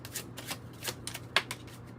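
Tarot and oracle cards shuffled and drawn by hand: a series of soft, quick papery riffles and flicks close up, with one sharper snap of a card partway through, no voices.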